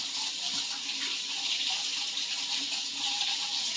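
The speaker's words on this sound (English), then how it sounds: "Let's give this a quick rinse and see how we're looking." A tap runs steadily into a sink while a Minamoto Sujihiki kitchen knife under restoration gets rinsed, a continuous close splashing hiss with no voices.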